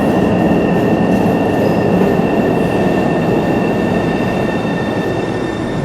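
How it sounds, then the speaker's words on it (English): A Boston subway train pulls into Chinatown station, a loud, steady rumble of wheels on rail with high, sustained squealing tones running throughout and no talking. "and here's our train"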